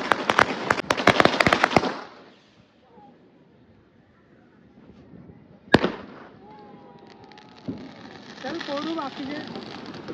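Diwali firecrackers burst outdoors at night: a quick volley of sharp cracks at the start, then a single loud bang midway and a fizzing, whistling firework afterward, with people talking in between.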